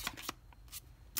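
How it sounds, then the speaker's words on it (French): Tarot cards are shuffled and drawn in a few quick, soft riffling bursts with brief pauses between them, close and quiet. "Allez, c'est parti, on prend 3 cartes."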